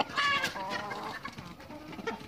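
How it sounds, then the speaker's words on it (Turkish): Roosters and hens in a chicken coop cluck close by in quick, uneven bursts, several birds overlapping in agitated chatter. "Bakın, horozlarımız tavuklardan korkuyorlar."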